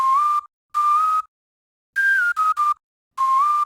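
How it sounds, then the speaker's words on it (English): Whistle one-shot sample with no effects plays as six clean, loud whistled tones in short bursts separated by silence, some gliding slightly in pitch. "I chose this whistle called Unknown. With no effects it sounded like this."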